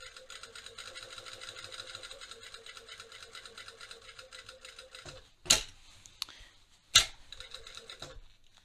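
A sewing machine stitches the back seams of jeans in a fast even whir for about five seconds, then stops, followed by a couple of sharp clacks and a brief restart, heard close and fairly quiet.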